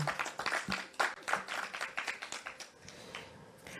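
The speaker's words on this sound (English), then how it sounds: "A round of applause for the Exchange All-Age School." An audience at a national senior awards ceremony claps for a school honoured for community service, a dense burst of hand claps that thins out and fades toward the end, distant and fairly quiet.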